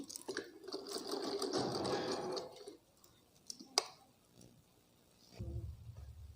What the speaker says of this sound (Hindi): अब इसके एक अच्छी सिलाई लगा देंगे।